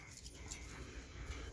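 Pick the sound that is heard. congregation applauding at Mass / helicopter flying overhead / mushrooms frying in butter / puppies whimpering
puppies whimpering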